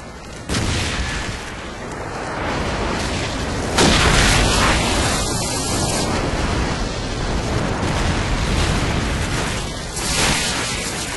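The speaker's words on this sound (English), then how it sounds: "Friendly airstrike on the way." Heavy explosions from a friendly airstrike in Call of Duty 4 Headquarters multiplayer, a dense continuous rumble of booms and blasts that swells loudly around the middle and stays full throughout, with no speech.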